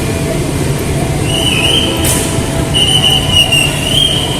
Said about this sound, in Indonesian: Wow, kereta dari Cina.